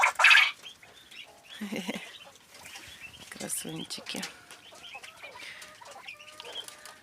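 Roosters crow and cluck amid a busy farmyard, with someone speaking briefly over the birds.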